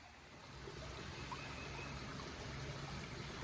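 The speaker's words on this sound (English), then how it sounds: "This is the next to last creek before I head up the mountain to the Ouachita Trail. This one is flowing real nice." A creek in Ouachita National Forest flows steadily, a soft continuous rushing murmur from nearby water, faint and unbroken, no talk.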